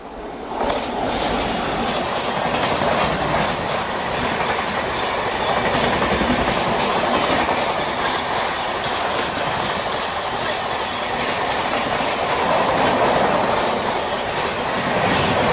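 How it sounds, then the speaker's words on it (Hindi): A train passes close by from the opposite direction on an Indian railway line, its broad continuous roar and clattering wheels loud and steady throughout. "पर सामने से कोई ट्रेन क्रॉस हो रही है।"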